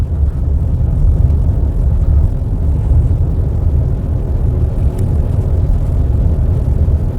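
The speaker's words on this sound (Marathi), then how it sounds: "आज ट्रकचं पण ट्रॅफिक भरपूर आहे" Heavy road traffic with many trucks passes on a highway near a petrol pump, heard as a constant low rumble of engines and tyres without a break.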